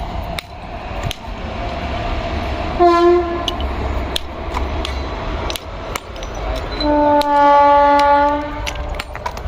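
A train rumbles past with rhythmic clacking, sounding two loud horn blasts, one brief and one sustained, close by.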